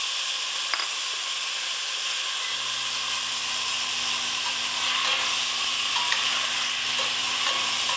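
Tomatoes go into a pan of browning garlic for rasam, and a steady, close sizzle and hiss fills the whole stretch, settling into a fuller frying sound after they land.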